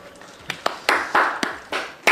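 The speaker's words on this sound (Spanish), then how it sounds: "Un aplauso de Manuel." A few irregular hand claps from one person, sharp and fairly close, spaced unevenly over a couple of seconds with no talk.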